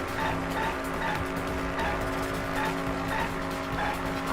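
Racing cars in a Danganronpa V3 video game driving minigame, a continuous engine whine with tire squeals and skids, loud and steady throughout, with no talk over it.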